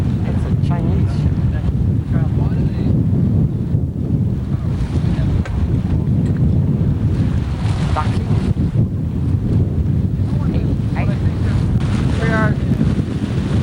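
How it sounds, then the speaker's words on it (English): Strong wind roars across the microphone on a sailboat off the New Jersey coast in the Atlantic, loud and continuous with water wash underneath, while someone talks briefly through the gusts. "I don't know if you can hear me a lot because there's a strong wind."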